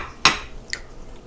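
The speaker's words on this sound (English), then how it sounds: "We're going to just put them in the frying pan here." Pieces of cut pork for cracklins dropped into a cast iron skillet: one sharp clattering impact followed by a fainter clink, close and brief, with no talk.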